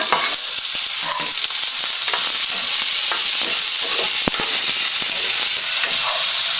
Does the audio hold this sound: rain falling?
no